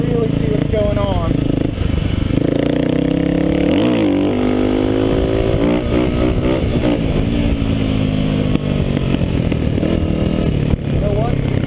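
A Kawasaki KLX250S motorcycle revs repeatedly while doing wheelies, its engine rising and falling in loud, close bursts with wind buffeting throughout.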